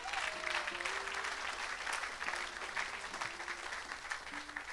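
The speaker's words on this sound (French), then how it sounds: "Acclamez pour la grâce." Congregation applauding at a church service, a dense steady wash of clapping that carries through the whole stretch, with a voice speaking over it.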